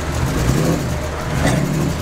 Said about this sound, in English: You got an exhaust noise.